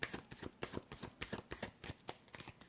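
Tarot cards being shuffled during a reading, heard as a rapid run of soft papery riffles and slaps in an irregular rhythm, close and quiet, with no talking.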